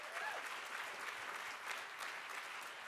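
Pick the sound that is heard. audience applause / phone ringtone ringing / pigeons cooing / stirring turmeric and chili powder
audience applause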